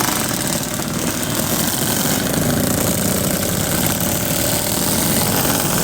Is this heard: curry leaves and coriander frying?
no